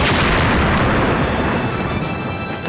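Loud, continuous barrage of blasts from cartoon weapons fired by fairy-tale characters in an animated series, one dense roaring rumble of booms and bursts with no talk over it.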